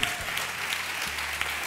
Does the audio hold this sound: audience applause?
yes